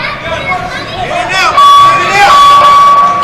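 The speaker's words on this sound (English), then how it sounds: "you can hear the crowd getting into it" Spectators at a national amateur boxing tournament rumble with rising excitement, a crowd babble swelling louder midway with shouts and whistles, while a commentator talks over it.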